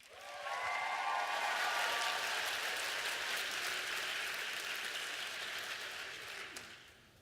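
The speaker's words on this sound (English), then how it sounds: "Let's have a big round of applause for Purple Team." A large audience applauds after a team's final presentation, the clapping swelling quickly, holding steady for several seconds and then tapering off, with no speech over it.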